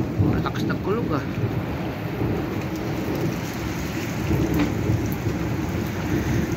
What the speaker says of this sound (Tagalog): Matakas ng kulog ah.